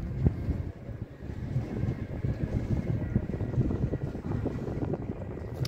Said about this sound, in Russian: Да, там катера вдали.